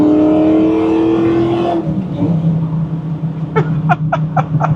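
A 1993 Ford Mustang Cobra accelerates at full throttle, its engine note loud and rising steadily before a shift, then continuing in a lower rumble with brief sharp chirps near the end.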